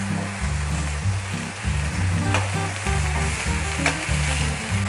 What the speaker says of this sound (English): The meat is still sauteing